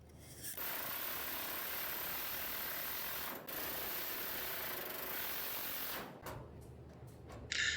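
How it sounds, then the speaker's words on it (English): A pneumatic air hammer chisels a car's old quarter panel remnant off around its resistance welds, giving a loud, continuous broadband rattling buzz for about six seconds with one brief pause, then a short stop and a quick final burst. "slowly turn down the pressure on the air hammer, well, we can work around the resistance welds and get this off really nice and clean"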